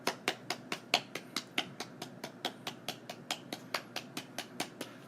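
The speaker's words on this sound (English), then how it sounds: "Can we do a clapping thing?" A small group claps in a fast, steady rhythm, about four crisp hand claps per second for roughly five seconds. The claps are fairly quiet and even, with no talking over them.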